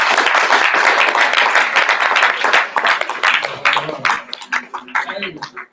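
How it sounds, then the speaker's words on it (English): Dense audience clapping at a spoken-word tribute event fills the room loudly, then thins into scattered, louder individual claps as it tapers off near the end, with voices mixed in. "Clap it up for the spirit of brother."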